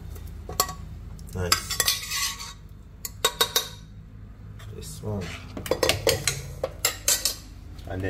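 Metal pots and utensils clatter and clink repeatedly while cooked rice and peas with salt are moved into a separate pot on a stove, with sharp scrapes and stirring in bursts over a low kitchen background.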